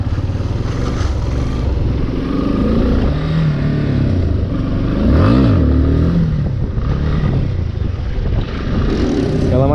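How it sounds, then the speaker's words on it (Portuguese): A motorcycle engine, likely a Yamaha MT-09 600, rumbles close by on a track, its pitch rising and falling as the throttle is worked, with one sharp rev in the middle. "A moto quase para"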